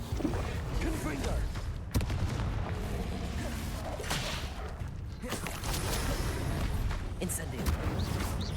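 Confringo blasting-spell explosions from Hogwarts Legacy, a series of booming magical bursts and whooshes repeating over steady game noise, with a voice calling out spell names through the clip.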